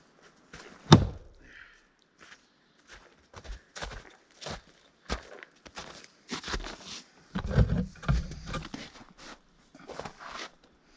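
Tactical shovel thrown at a target outdoors, one sharp heavy thunk of impact near the start, then scattered footsteps and soft knocks from walking about and handling gear.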